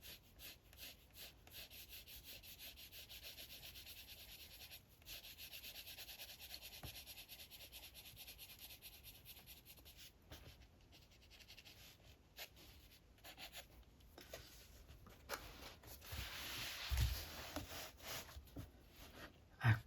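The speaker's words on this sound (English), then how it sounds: "that does sound quite rough, that paper, doesn't it?" A colouring pencil rubs over rough paper in quiet, continuous scratchy strokes, soft and close, rising and falling with each pass, with no talking.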